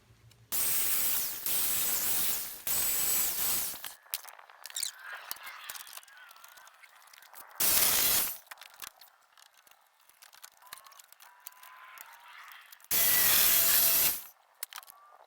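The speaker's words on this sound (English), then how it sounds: "We're going to clean the edges up with the grinder." An angle grinder cleans up the freshly cut edges of steel table legs for a firewood rack, running in four loud, close bursts of harsh whirring grind separated by quieter gaps of workshop handling.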